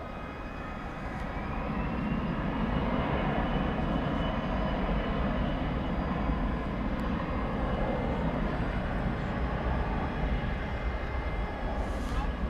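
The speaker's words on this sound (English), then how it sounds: "This is flight 4801 to Mexico City, Airbus A320 Neo." An Airbus A320neo airliner on a flight to Mexico City at an airport after dark, a steady broadband engine roar swelling early and holding loud and even throughout, with faint voices in the background.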